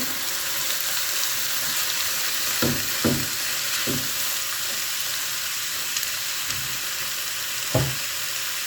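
Steady sizzling of cabbage frying in a pan, with a few soft scraping thuds as it is stirred, no talking.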